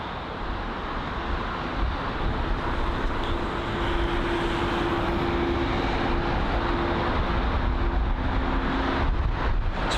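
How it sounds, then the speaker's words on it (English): An Airbus A320-200 arriving from Bucharest at London Heathrow gives a steady, loud broadband jet roar with a low engine hum running through all ten seconds, mixed with wind buffeting on the microphone. "From Bucharest this is, an A320-200."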